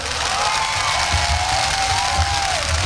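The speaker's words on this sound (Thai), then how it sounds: "ขอเสียงปรบมือดังๆให้กับชาว สิงห์บุรีชัยนาทด้วยครับ" A large outdoor political rally crowd in Sing Buri applauds and cheers loudly, a continuous roar of clapping with whoops and shouting throughout.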